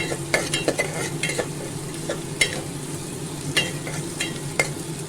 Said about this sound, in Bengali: একটু আদা কুচি দিয়ে দিলাম গ্রেট করে আদাটাও ভেজে নেব